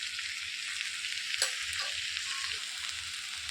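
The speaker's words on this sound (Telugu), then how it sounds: "కలిపేసుకొని మూత పెట్టుకోవాలి." Spiced brinjal and dried fish curry with tomato and chilli powder stirred in a pan, a steady close frying sizzle with soft scraping stirs and one brief clink of the spoon.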